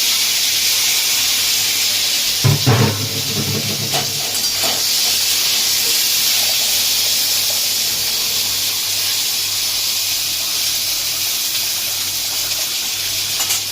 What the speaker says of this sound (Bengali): এটাতে আলাদা করে বেগুনটা ভাজছি